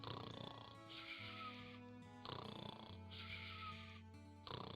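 Slow, rhythmic snoring from a video game, heard in long rising and falling breaths, three or four cycles, faint and low under a sustained droning musical score.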